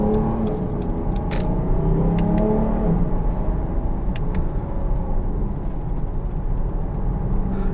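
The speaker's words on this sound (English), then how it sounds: "And the exhaust actually does sound really good." A 2021 Jeep Grand Cherokee L Overland SUV engine revs and accelerates with a steady, loud low exhaust rumble and whirring, close by, with no talking.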